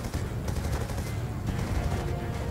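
Call of Duty Black Ops 2 gunfire in the Yemen mission, heard as a dense, continuous roar of rapid shots and battle noise that stays loud and unbroken throughout with no clear pauses.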